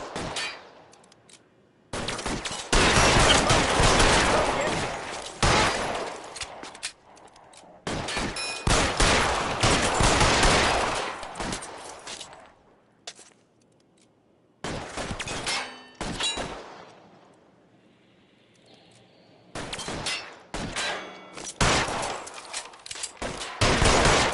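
Gunfire in a shootout in the video game L.A. Noire, remastered edition, coming in several loud, close volleys of rapid shots separated by brief quieter lulls.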